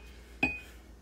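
A drinking glass clinks once against other glasses in a kitchen cupboard, a single close, bright chime that rings briefly before fading, with no talking.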